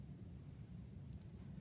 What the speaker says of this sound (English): I am going to write a message, a secret message that says,